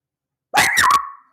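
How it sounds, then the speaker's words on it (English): A dog gives a quick burst of two or three loud, close barks that trail into a short whine, alone against silence. "Quit barking."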